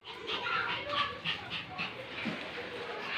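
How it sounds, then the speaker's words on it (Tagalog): A pet dog whimpers and whines in excited, high-pitched bursts at a home doorway as someone arrives, close and repeated, with faint background voices. "Ang kulit ng aso ko oh."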